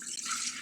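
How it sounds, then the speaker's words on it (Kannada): Water pours into a pressure cooker holding chickpeas, a short soft steady splash heard close and alone. "ಇನ್ನು ಸ್ವಲ್ಪ ನೀರು ಬೇಕು ಅಂತ ಅನಿಸುತ್ತೆ, ನಾನು ನೀರು ಹಾಕ್ತಾಯಿದ್ದೀನಿ"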